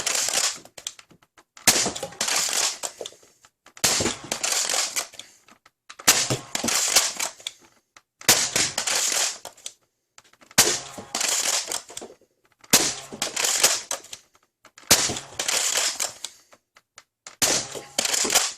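A Nerf Rival Sideswipe XXI-1200 blaster loaded with chaos rounds is cycled and fired again and again, giving eight evenly spaced bursts of loud, harsh rattling clacks, each lasting over a second, with near-silent gaps between them and no talk.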